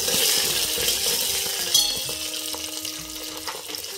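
Buttermilk chillies sizzle and crackle in hot oil for traditional rice upma cooked in a bronze pot, a steady close frying hiss with scattered pops and a few light utensil clinks.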